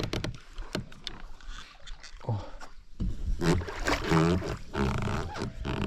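A small fishing boat sets out on the water in summer, with close splashing and hull noises that grow busier and louder partway through, and faint voices mixed in.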